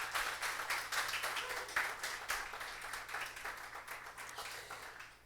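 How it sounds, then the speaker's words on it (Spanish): A church congregation claps during a baptism service, a fairly even crowd applause with individual claps flickering through, heard at a modest, slightly distant level and gradually fading at the close, with a low steady hum beneath. "Le damos un aplauso al Señor"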